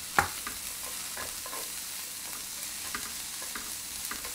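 Onions and mushrooms stir-fried in a pan for japchae, a steady close sizzle with occasional scraping and stirring clatter, no talking.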